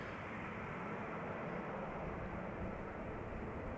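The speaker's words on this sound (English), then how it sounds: "Finnair A350 has also cleared the southern threshold of the center runway and is coming up this" A Finnair Airbus A350 airliner on the runway at Amsterdam Schiphol gives a steady, broad jet-engine rumble. The roar holds constant throughout and is heavy in the low end, with no voices.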